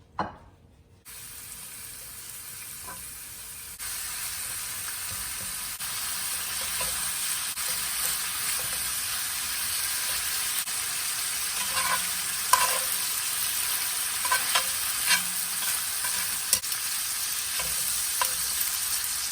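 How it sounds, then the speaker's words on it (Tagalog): Cabbage frying in rendered bacon grease, a continuous close sizzle that grows denser after the first seconds, with scattered scrapes and clicks of stirring throughout and no voices. "So yung yung oil na coming from the bacon, yun po ang ipa-fry natin doon sa cabbage"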